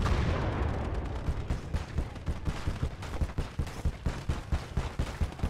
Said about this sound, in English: our artillery piece is firing